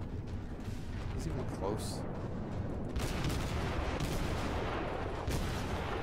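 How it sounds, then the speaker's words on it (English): Warship gun batteries fire in a continuous, dense rumble of shelling in World of Warships, booming steadily under a voice. "I'm shelling this guy beyond the mountain"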